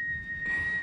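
A person's steady, high single-pitch whistle holds for almost a second, fairly clear over low background rumble, at sea.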